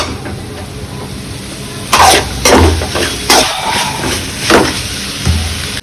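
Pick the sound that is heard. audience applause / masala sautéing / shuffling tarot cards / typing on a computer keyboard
masala sautéing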